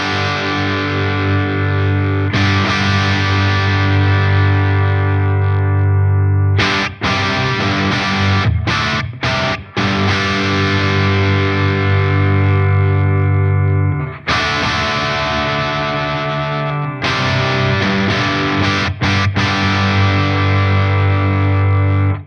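Electric guitar runs through a Friedman IR-X twin-channel high-voltage valve preamp, giving a loud, saturated distorted tone with sustained chords and notes broken by short choppy stops and restarts, played alone with no talking.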